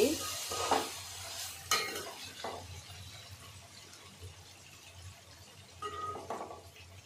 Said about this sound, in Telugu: లైట్గా ఫ్రై అవ్వాలి.